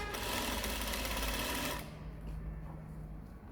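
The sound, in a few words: sewing machine stitching a dress seam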